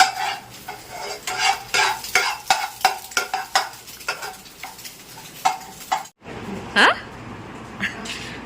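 Food stirred and fried in a pan in a home kitchen, with rhythmic scraping strokes of a utensil over a soft sizzle, close by, and people talking at times.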